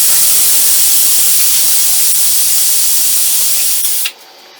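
A pressure cooker holding pork for a Kottayam-style pepper pork fry lets out a loud, sustained steam hiss for about four seconds, then stops abruptly into near silence.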